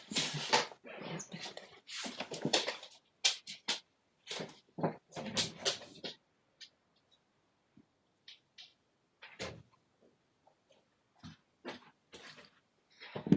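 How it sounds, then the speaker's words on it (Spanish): A small dog whimpers and whines in quick, uneven bursts, then quieter intermittent whines and snuffles with pauses between them. "Ya, disculpen, era mi perrita."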